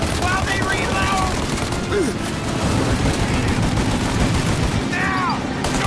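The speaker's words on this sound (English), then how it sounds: "Shoot now while we got the chance!" Rapid bursts of gunfire ring out in the video game Mafia Definitive Edition, a loud fusillade with voices shouting over it.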